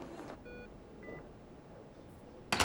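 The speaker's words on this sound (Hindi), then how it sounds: "भाभी को फोन किया, उन्होंने उठाया नहीं तो नाइला को किया।" Telephone keypad dialing tones from a phone call, two short bursts of steady beeps at moderate level, followed by a louder noisy rush at the end, with no talk.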